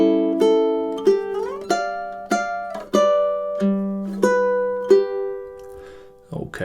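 A ukulele plays a short melodic passage from the Mexican folk song Cielito Lindo, strummed chords and plucked notes ringing out in a steady waltz-like rhythm, close and clear with no talking.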